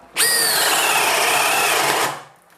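A Makita DHP487 cordless hammer drill bores into wood in one loud, steady run of about two seconds, starting abruptly and then winding down.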